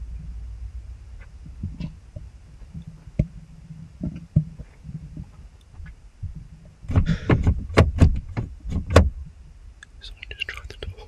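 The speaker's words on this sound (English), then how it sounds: "Someone just tried the door." A sharp cluster of rattling knocks and clicks as someone tries a door at a campsite at night breaks a quiet stretch, close and brief, with faint whispering before it.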